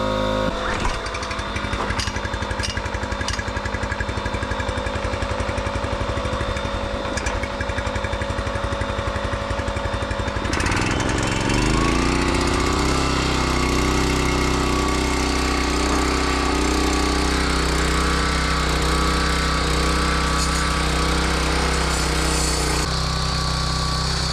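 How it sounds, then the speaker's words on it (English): A loud air compressor runs continuously at a work site, first with a rapid pounding rhythm, then shifting to a steadier, heavier drone that fills the whole stretch. "Man, I hate air compressors. They're so loud."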